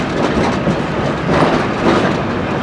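A historic train rolls along the Virginia City railroad in Nevada, its wheels clacking steadily and loudly over the rails beneath a continuous broadband rumble, heard close up with no voices.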